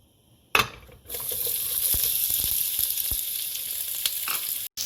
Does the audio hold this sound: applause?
no